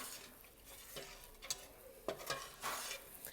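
Mac and cheese with milk is stirred in a pot, soft scraping and gentle sloshing with a few faint clinks of the utensil against the pot, quiet and close.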